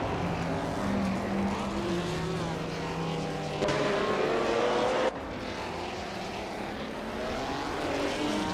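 Race car engines whine in a racing video game, several cars' tones sweeping up and down and overlapping, with a sharp shift in the engine note partway through and no voices.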